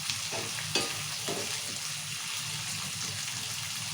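Chopped onions fry in hot oil for upma, giving a steady, even sizzle close up, with a few soft clicks from stirring.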